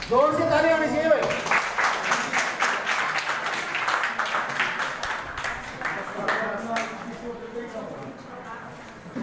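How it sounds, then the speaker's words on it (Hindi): Loud, sustained applause and clapping from a gathered group at a dance celebration in Gurgaon, continuing steadily for several seconds with voices and talk mixed in at the start and end. "जोर से ताली होनी चाहिए भाई"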